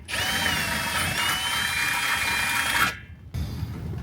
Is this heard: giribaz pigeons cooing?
no